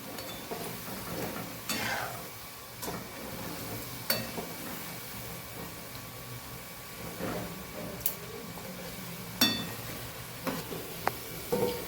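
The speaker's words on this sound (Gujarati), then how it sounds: "તો બે સાઈડથી સરસ આપણે ક્રિસ્પી એવા તળી લેવાના છે." Cabbage snack fritters fry in hot oil in a home kitchen with a steady crackling sizzle, broken by occasional clinks and scrapes of a utensil stirring in the pan.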